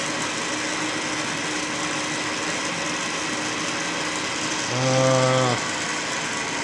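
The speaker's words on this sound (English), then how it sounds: "That's climb milling actually" Climb milling cut on a lathe fitted with a retractable tool holder, a steady close mechanical whir with a brief rising tonal whine near the end.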